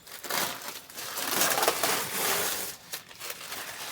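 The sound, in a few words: peeling blue protective plastic off a tractor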